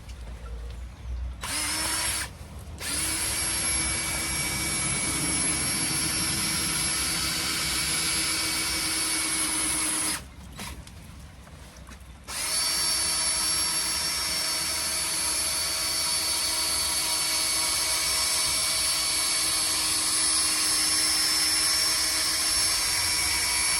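A power drill at slow speed polishing a car headlight whirs steadily at close range, stopping briefly twice before running on in a long continuous whine.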